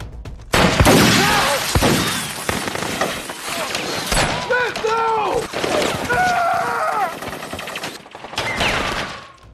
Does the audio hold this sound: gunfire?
yes